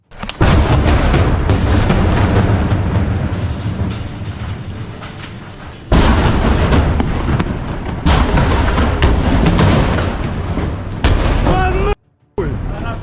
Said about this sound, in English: the whole group fires a missile